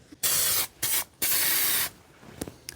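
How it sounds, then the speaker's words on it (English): An aerosol can of epoxy primer sprays onto the underside of a Nissan Gloria project car: three loud close hissing bursts, the last the longest, followed by quieter handling noises. "when you spray epoxy, there needs to be a hardener"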